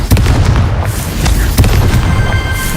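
Confringo blasting spell going off in a video game, a loud booming explosive burst repeated several times in quick succession with crackling debris, no talking.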